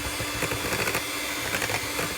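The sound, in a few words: whisking double cream to stiff peaks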